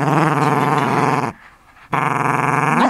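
A toy poodle growls close up in two long, continuous rumbling stretches, split by a short breath-like pause, loud and alone without talk.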